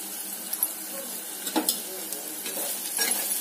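Potato rice mixture fries in oil in a pan with a soft, steady sizzle and a few light scraping stirs, fairly quiet and close.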